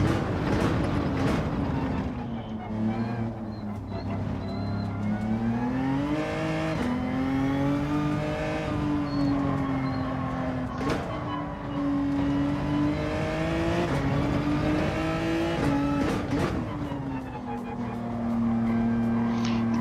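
Race cars lap the Nurburgring in Gran Turismo 7 during a manufacturers cup final, with a loud engine note rising and falling through gear changes, heavy braking and acceleration, sustained and close throughout.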